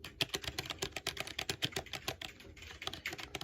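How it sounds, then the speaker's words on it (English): Keys clatter on a Red Thunder one-handed mechanical keyboard, a fast irregular run of close, crisp clicks and clacks with short pauses, loud and alone without speech. "So let's begin the clicking noise."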